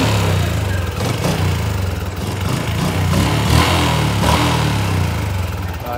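A 2010 Yamaha Exciter motorcycle engine runs close by, a loud, steady mid-pitched rumble with slight surges in revs and no talking.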